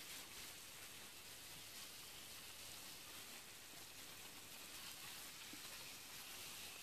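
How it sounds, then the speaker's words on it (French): Beef roast searing in a hot pan over fairly high heat, being browned on all sides, giving a faint, steady, even sizzle with no break and no voices. "je vais faire dorer ce rôti sur tous les côtés"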